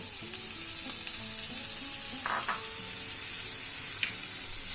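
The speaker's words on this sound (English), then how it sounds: "I'm adding in cubed paneer" Cubed paneer hisses in a hot pan, a constant close sizzle with a brief louder crackle burst partway through and light stirring clinks.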